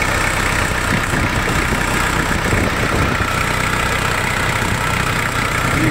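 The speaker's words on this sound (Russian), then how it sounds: "трактор работает очень тихо, и не нужно говорить громко, чтобы перекрикивать работу мотора" Kubota GT5 four-cylinder compact tractor engine idling smoothly and quietly, a steady low mechanical hum throughout with no voices.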